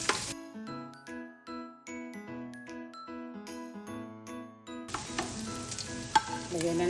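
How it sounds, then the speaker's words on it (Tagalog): Ginger hits hot oil in a pan for squid adobo, a steady close sizzle with occasional clinks of a utensil, following several seconds of plucked background music. "mag-igisa na tayo para dito sa pusit"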